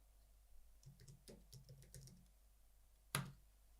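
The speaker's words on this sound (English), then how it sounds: "Actually hit return on my keyboard at that point." Quiet clicking of fingers typing on a computer keyboard, a quick irregular run of keystrokes, then a pause before one sharper, louder tap on the return key.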